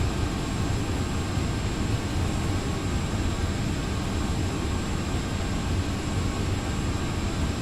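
A Boeing 757-200 roars with thrust reversers deployed after landing in the X-Plane 11 flight simulator, a dense and steady jet rumble holding constant throughout with no voices.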